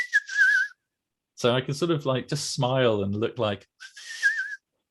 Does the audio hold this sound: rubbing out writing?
no